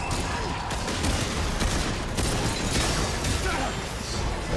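Gunfire fills a Remnant 2 game scene, dense bursts of shots and crashes running loud and continuous throughout, with a voice faintly under the din.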